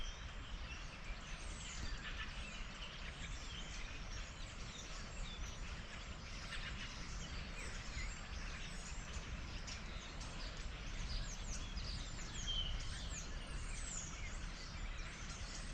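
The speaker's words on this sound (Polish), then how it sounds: "i nagle w tym miejscu jest po prostu mnóstwo ptaków" Many wild birds chirp and sing together in a quiet outdoor spot, a dense, steady chorus of overlapping high calls over a low background rumble, with no talking.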